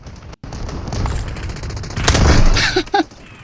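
Rapid bursts of MK4 submachine gun fire in the Delta Force shooter game, loud and close, with overlapping shots and booms that swell toward the end before a few sharp final cracks.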